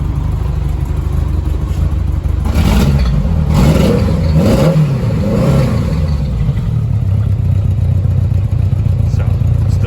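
A Honda Gold Wing motorcycle with 90,000 kilometres on it idles close by, a steady, loud, even engine drone with a few brief rises in tone, running continuously throughout.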